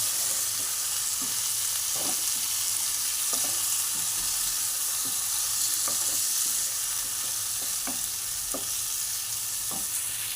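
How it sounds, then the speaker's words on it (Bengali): Fried shrimp stirred into a sizzling spice mix in a pan, with a steady bed of frying hiss and a series of distinct scraping spatula strokes at irregular intervals, close and continuous throughout. "ভেজে রাখা চিংড়ি মাছটা আমি এর মধ্যে দিয়ে দিলাম দিয়ে ভালো করে মিশিয়ে নেব ওর সঙ্গে"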